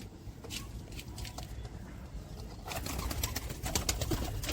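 An Andhra male pigeon coos among other pigeons, low rolling coos repeating under a constant noisy background, close by.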